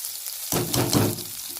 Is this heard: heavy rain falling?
no